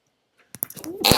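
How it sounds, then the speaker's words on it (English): A person sneezes once, a short sharp burst after near silence, followed by a brief loud exhalation at the end. "I'm gonna sneeze real quick"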